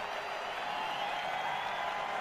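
Crowd sample picked from the human vox and crowd category of the LittleBigPlanet music sequencer, a steady murmuring crowd wash that stays even and fairly loud for about two seconds with no distinct voices.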